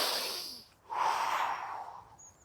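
Slow, deep human breathing: a long airy inhale, a brief pause, then a fuller, drawn-out exhale that fades gradually, close and soft with no talking.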